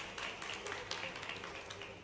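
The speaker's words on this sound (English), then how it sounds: "Congratulations and clap for yourself." Students applaud at a school milestone ceremony, a faint, distant wash of many overlapping claps that continues evenly throughout with no voices on top.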